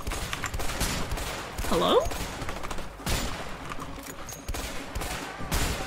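Gunfire rattles through a shootout in the game A Way Out, sharp repeated shots and bursts layered over continuous battle noise, with a brief voice heard among the shots.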